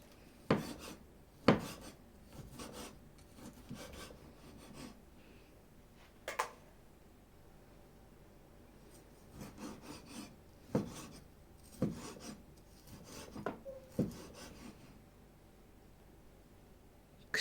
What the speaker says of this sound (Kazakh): Ең алдымен етімізді майдалап турап аламыз.